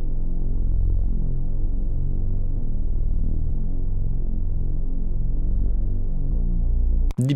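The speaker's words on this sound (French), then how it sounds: "Ensuite, une petite basse pour accompagner tout ça." A deep, throbbing bass line plays alone, with steady low pulsing notes that shift in pitch, ending with a brief click.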